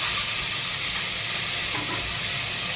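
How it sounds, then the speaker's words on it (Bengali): Cut potatoes sizzle loudly and steadily in hot oil with cumin, bay leaves and dried chilies, a continuous close-up frying hiss with no talking. "এবার আমি কেটে রাখা আলুগুলো দিয়ে দেবো।"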